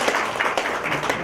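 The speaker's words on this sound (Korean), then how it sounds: "여러분 박수로 맞이해 주시기 바랍니다" A seminar audience at a technical presentation applauds to welcome a speaker to the stage, a short, moderately loud burst of many hands clapping close together, with no speech over it.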